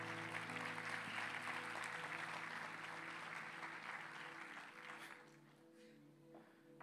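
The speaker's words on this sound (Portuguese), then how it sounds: "Vamos aplaudir o Senhor por louvor lindo que nós temos" A church congregation applauds after a worship song while keyboard notes hold underneath, the dense clapping gradually thinning and fading toward the end.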